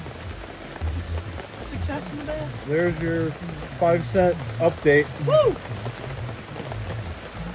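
Rain patters steadily in the background while someone talks and lets out a brief cheer over the falling water.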